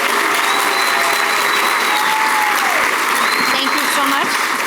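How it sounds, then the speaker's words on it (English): Sustained audience applause fills a hall honoring park district superintendents, steady and dense throughout, with faint voices and a brief tonal sound riding over the clapping. "could we have another round of applause for the superintendents?"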